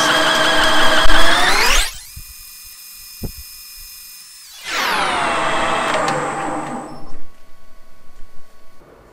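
Milling machine fly cutter taking a 1 mm pass: a loud rising high-pitched whine as the spindle spins up, a steady cutting scream, a quieter gap, then a second cutting pass ending in rattling clatter.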